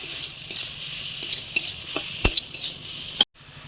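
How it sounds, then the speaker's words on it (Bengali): Grated pointed gourd and potato stir-frying in a pan, a loud continuous sizzle with repeated sharp scrapes and knocks of a spatula, then a sudden brief dropout before the frying resumes. "দিয়ে দিচ্ছি গ্রেট করা পটল তারপর দিয়ে দিচ্ছি গ্রেট করে রেখে দেওয়া আলু দিয়ে ভালো করে এটাকে কষাতে হবে"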